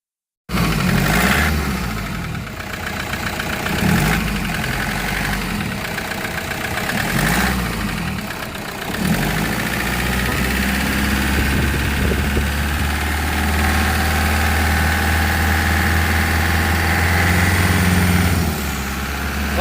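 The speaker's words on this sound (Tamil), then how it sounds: "வண்டியோட என்ஜின் நாய்ஸ் கேளுங்க" A Toyota Innova car engine idles with a steady rumble, then rises into a longer, louder rev that holds near the end; close up, no voices.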